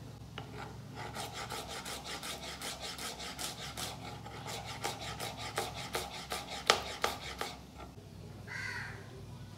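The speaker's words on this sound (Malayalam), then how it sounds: "രണ്ടെണ്ണം എടുത്തിട്ട് ഇങ്ങനെ കട്ടാക്കി എടുക്കുക" A knife cuts small onions on a cutting board while an egg curry is prepared, producing a quick, even run of about twenty crisp, close chopping strokes that grow slightly sharper toward the end.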